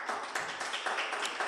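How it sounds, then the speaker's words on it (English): Audience clapping at a Radical New Bar public engagement event in Uganda, a dense, steady patter of many hands held at an even level for a brief moment, no voices over it. "let's clap for them"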